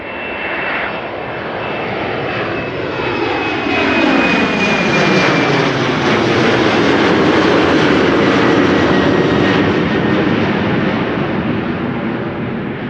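A KLM Embraer 190 jet bound for London City roars loudly on departure from Amsterdam Schiphol, its engine noise swelling and shifting in pitch as it passes nearby, steady and overwhelming throughout.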